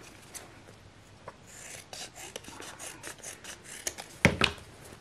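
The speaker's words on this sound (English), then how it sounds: "Cut it to lengths. Cut off excess." Scissors or a blade cutting cotton rag paper to length, a faint series of dry rasping snips and rubs in an irregular rhythm, ending with two sharper, louder cuts close by.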